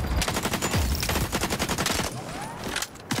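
Rapid automatic gunfire in XDefiant Domination, a loud dense burst of shots that thins out briefly, then another quick shot near the end.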